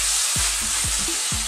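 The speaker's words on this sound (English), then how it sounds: "stir often. Let's cook those mushrooms now." Mushrooms fry over fairly vigorous heat in a pan with a loud, continuous sizzle, while a utensil scrapes and stirs them in three distinct sweeps spread across the moment.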